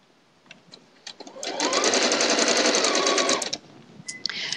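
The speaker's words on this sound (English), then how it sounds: "I'm sewing with that solid fabric on the bottom so that I can control my seams on top" Sewing machine stitching quilt fabric pieces for a log cabin quilt, a steady close whirring run of about two seconds that starts with a few faint ticks and ends in short stops.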